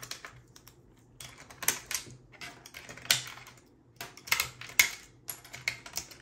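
Small 3D printed plastic parts are snapped and pried off by hand, giving a series of sharp, irregular clicks and cracks close by in an otherwise quiet room.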